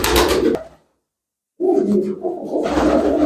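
Pigeons coo close by in two low, throaty bursts separated by a moment of silence.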